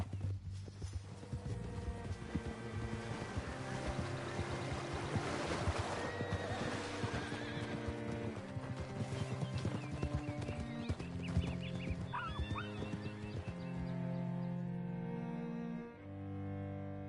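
Hooves clip-clop and a horse whinnies in Red Dead Redemption 2, set against a loud swell of game music, with the horse sounds half masked and the music carrying alone near the end.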